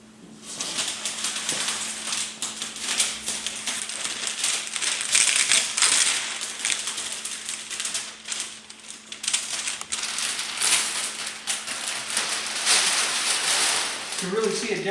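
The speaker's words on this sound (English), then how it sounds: "So we'll start peeling it off now." Plasti Dip spray coating is pulled off the chrome trim of a Tesla Model X, a continuous rough crackling and rustling peel that swells and fades in long strokes, loud and close.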